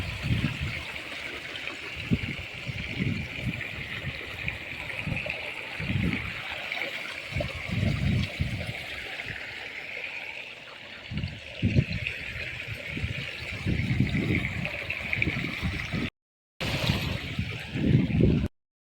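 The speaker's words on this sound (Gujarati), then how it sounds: "આપણે પાણી ચાલુ કરી દીધું છે" Water gushes from a motor-pumped irrigation pipe on a farm field, a steady rushing flow with intermittent low sloshing bursts, close and continuous, briefly cut off near the end.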